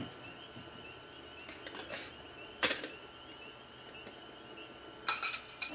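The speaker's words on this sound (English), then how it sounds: "Now I've got a spoon to stir them with." A spoon clinks and scrapes against a pot of food on a Biolite camp stove outdoors, giving a few sharp metallic taps and short scraping bursts over a quiet background.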